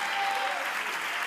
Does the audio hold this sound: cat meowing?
no